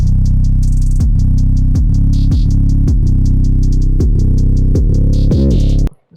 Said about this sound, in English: basically I made the 808 sound like this